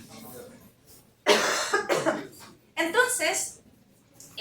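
Two harsh, close coughs, each a loud burst after a quiet pause, the second slightly shorter than the first.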